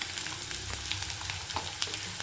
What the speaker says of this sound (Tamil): முதல்ல வெங்காயம் அரைக்கி வச்சா வெங்காயத்தை போட்டுருவோம்